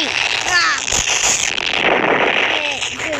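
Gunfire and bursts ring out in a WW2 Roblox video game, with rapid popping shots mixed under a player's excited talking throughout.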